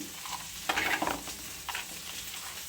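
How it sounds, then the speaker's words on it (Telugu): Idli batter with salt added is stirred by hand in a bowl, giving soft wet swishing and squelching strokes in a couple of close bursts, with no talking. "పిండి కలిపేసుకుందామండి."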